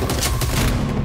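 Gunfire bursts out right after a shouted order to fire in an action scene, a loud, dense volley of shots filling the short moment.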